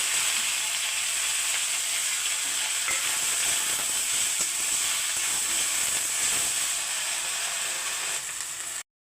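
Garlic, black cumin, whole peppercorns and bay leaf fry in hot oil for a Bengali bottle-gourd-leaf paste, giving a steady, close hiss and sizzle with faint stirring scrapes throughout and no voices.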